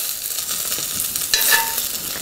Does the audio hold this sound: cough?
no